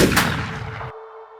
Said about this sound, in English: Is that the gunshots I'm hearing?